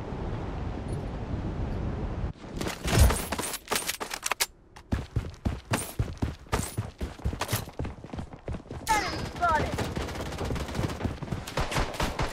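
Gunfire in the Blood Strike first-person shooter video game: rapid bursts of shots, dense and loud, firing in quick irregular volleys after a brief lull, with a few brighter metallic pings mixed in.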